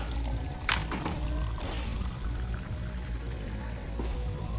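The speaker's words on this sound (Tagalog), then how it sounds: "ikukuha kita ng tubig na maiinom ha?" Drinking water pours steadily for several seconds, a close, continuous splashing rush over a low background hum, with no speech heard.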